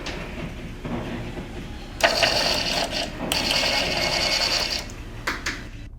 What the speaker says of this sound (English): we built a printer that generates a receipt for what you watch on YouTube and how much time you spend on it